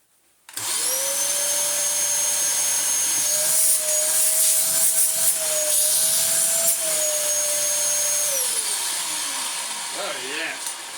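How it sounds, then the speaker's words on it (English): A Dyson DC07 vacuum cleaner runs its hose suction test, a loud close whine that starts abruptly, sweeps slightly in pitch as the suction is tried, then winds down at the end. "while we have the hose out, let's test the suction"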